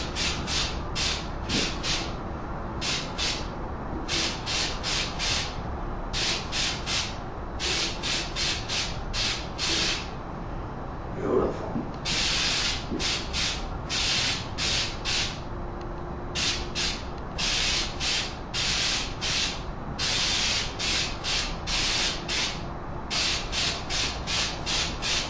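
Short bursts from an aerosol spray paint can, used while painting a go-kart, hiss in a steady on-off rhythm of repeated presses, close and fairly loud, with no one talking over them.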